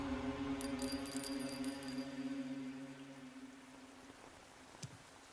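Steady rain patters softly in the video game Metal Gear Solid Delta, a faint, even wash of noise under sustained tonal hums, fading slightly toward the end.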